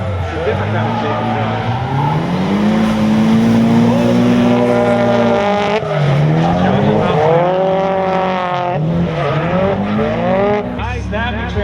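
Drift cars in a tandem drift competition scream at high revs, engine pitch rising and dropping through transitions with tire squeal, loud and close, under an excited commentator talking over them.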